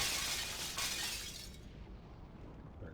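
Glass shatters in a video game, a bright bursting crash that sprays high tinkling debris and fades away over a couple of seconds, heard alone at moderate volume.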